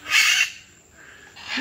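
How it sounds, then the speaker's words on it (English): A small parrot gives a loud, harsh squawk up close, then a second shorter call follows after a brief pause, outdoors in Tulum. "It's a little parrot."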